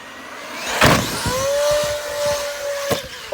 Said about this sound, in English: I'm just gonna hold on the throttle completely